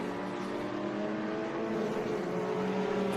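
Vintage Datsun race cars roaring through a downhill corkscrew corner at a track, engines blending into a continuous, fairly distant buzz with shifting pitch.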